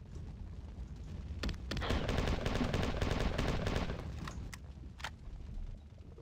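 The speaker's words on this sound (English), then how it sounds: "A bunch of fighters will spawn in, just shoot them." Sustained rapid gunfire from the player's weapon as spawned fighters are shot in the game Marathon 2: Durandal, a dense burst lasting a couple of seconds followed by a few isolated shots.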